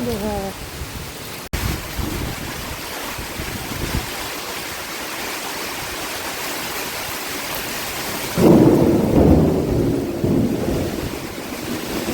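Steady rain pours down on village farmland while low thunder rumbles, the downpour swelling louder near the end.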